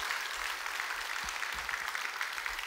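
A church congregation in Gunsan claps together in a soft, continuous wash of applause, heard from a distance and fairly faint, with no break in the sound.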